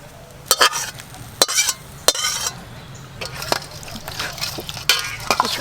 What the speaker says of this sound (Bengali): এবার আমি এই মশলাটা ওই ঝোলের মধ্যে দিয়ে দেব।